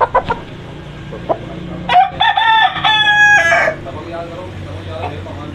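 An Aseel rooster crows once, loud and close, a long strained call rising then holding before cutting off, with a few clucks and faint background noise around it.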